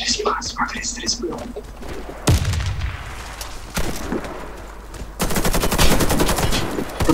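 Rapid bursts of gunfire and heavy booms in an online team shooter match, loud and close, coming in bursts of automatic fire with players' voices talking over parts of it.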